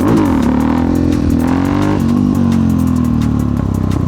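A Yamaha XT660X single-cylinder motorcycle engine revs hard and loud as the clutch is popped at about 20 mph, its pitch dipping under load and then climbing steadily, close to the rider with no talk.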